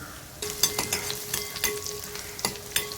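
Finely chopped garlic sizzles and crackles in hot oil, with a spoon stirring and scraping the pan in irregular bursts.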